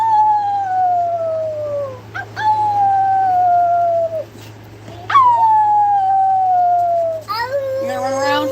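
A dog howls in several long, falling wails separated by short pauses, loud and close over a steady low hum.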